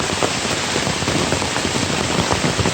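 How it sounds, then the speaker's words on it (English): Torrential storm rain pours down in a dense, loud, unbroken roar on a forest trail in Pisgah National Forest, North Carolina, with no talking. "it is a torrential downpour"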